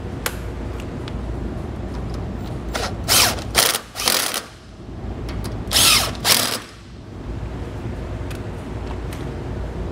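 A power tool tightens shackle nuts on a curved equalizer for double-eye trailer leaf springs, sounding as two clusters of sharp, rattling ratchet bursts over a quiet, steady background.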